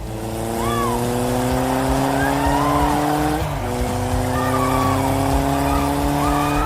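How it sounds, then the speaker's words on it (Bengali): A cartoon race car drifts during a race, its engine holding a loud, sustained, rising whine while rubbery squeals slide up and down over it, with a brief dip in the middle. "এই দেখ আমার সুপার ড্রিফট।"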